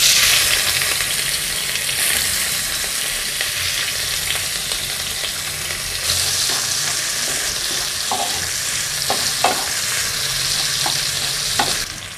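Sliced onions fry in hot oil over a black cumin tempering, giving a loud, continuous close sizzle with a few light scrapes of stirring near the end.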